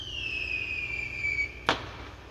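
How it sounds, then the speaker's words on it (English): Fireworks going off beyond a line of trees whistle as one long descending tone, then a single sharp distant crack sounds over a steady outdoor rumble. "why is there fireworks going off over there on the other side of them trees"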